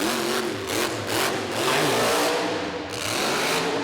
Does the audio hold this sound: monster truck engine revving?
yes